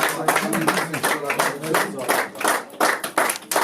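Guests clap to welcome a family at a gathering, a quick run of close, crisp claps mixed with a voice speaking over them.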